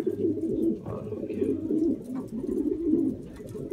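Racing pigeons coo in a loft, a steady low murmur of overlapping calls running throughout at close range with a faint voice now and then.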